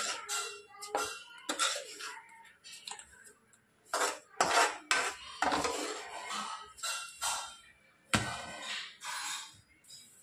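Sesame seeds tipped into a pan of dry fruit laddu mixture and stirred with a spoon, giving a run of close metallic scrapes, clinks and knocks in irregular bursts with short pauses between.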